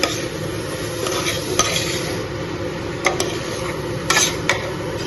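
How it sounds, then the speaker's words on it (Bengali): Fish frying in a pan on a home kitchen stove, a steady close sizzle with occasional sharp clicks and scrapes of a utensil against the pan. "মাছটা ভাজছি"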